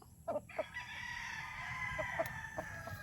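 At a chicken-raising yard, a rooster lets out a drawn-out crow, fairly faint and a little distant, with a few short clucks and squawks from the fowl before and during it.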